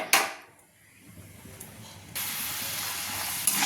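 Peanuts drop into hot oil with a sharp burst of sizzle, which eases off before a second loud, steady hiss of frying takes over and continues to the end.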